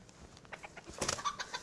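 Chickens cluck softly in short, scattered bursts, with a slightly louder cluck near the end, fairly close by.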